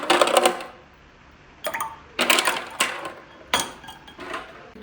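Ice cubes dropped into a glass of homemade juice: a loud rattling clatter at the start, then several short, separate clinks and knocks spaced about half a second apart, close by with quiet gaps between them.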